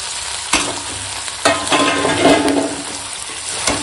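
Mutton sizzles and fries in a pan with green chilies and tomato while being stirred, a steady loud crackle broken by several sharp scraping stirs of the spoon, with no talking.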